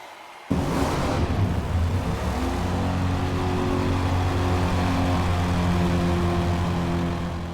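A hybrid prototype race car in Forza Motorsport starts on electric power, then its combustion engine kicks in and builds, revving with a rising, droning tone that settles into a steady whine as it accelerates.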